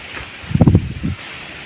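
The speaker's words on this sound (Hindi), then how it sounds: "ये देख सकते हो बहुत तेज़ हवा चल रही है।" Strong wind roars past, with a sudden gust buffeting the microphone in low, rumbling bursts before settling back to a steady rush.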